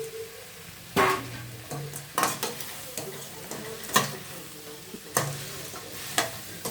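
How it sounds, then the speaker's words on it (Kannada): Cauliflower being stirred for a dry fry scrapes and clatters in a pan, with a spatula striking roughly once a second over a low sizzle, close by and without talk. "ಈಗ ಕಾಲಿಫ್ಲವರ್ ಹಾಕಿ ಮಿಕ್ಸ್ ಮಾಡ್ತೀನಿ"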